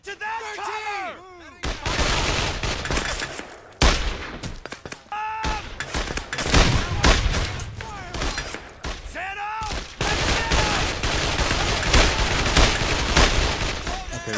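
Sustained gunfire and explosive bursts in the World War II shooter Brothers in Arms: Hell's Highway, loud dense volleys crashing almost continuously with brief lulls, a voice barely showing beneath the noise.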